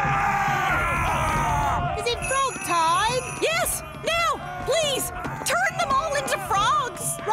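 Cartoon Vikings run around shouting, a busy mix of high whooping yells and cries over jaunty music with tinkling accents, voices overlapping and near.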